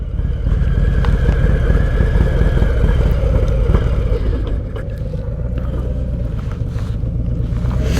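A Harley-Davidson Road Glide motorcycle pulls in at slow speed, its engine giving a steady, loud low rumble that stays close and continuous throughout with no talking.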